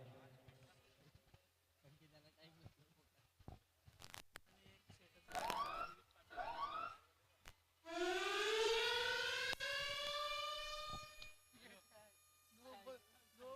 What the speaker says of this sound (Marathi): त्यानंतर मात्र इथे सायरन वाजलाय.